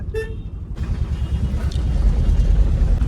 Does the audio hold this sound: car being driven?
yes